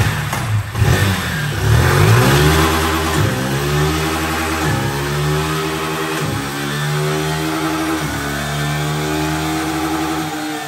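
A motorcycle engine on a dyno during a power test rises through repeated long pulls, each climbing in pitch then dropping sharply at a gear change, loud and close with a harsh rasp throughout.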